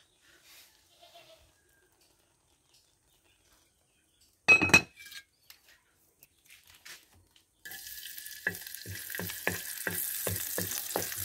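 Food sizzling in a small amount of cooking oil in a pan, a steady crackling hiss that starts partway through after a sharp clatter and quiet kitchen sounds, with a faint rhythmic tapping over it.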